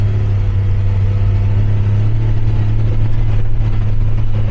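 Engine of a 2026 CFMoto Highland XL running during test laps, a loud, steady mechanical drone that holds throughout with no speech.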